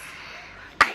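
A child's single short, sharp sneeze bursts out near the end after a quiet stretch of faint room noise.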